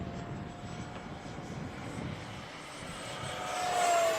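A radio-controlled model airplane flies past on a rainy day, its thin engine whine building as it comes closer and loudest near the end.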